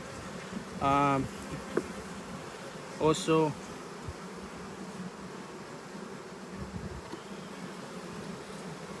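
Honeybees buzz steadily through a bee yard in a continuous faint drone, with two short bursts of nearby speech breaking in over the hum.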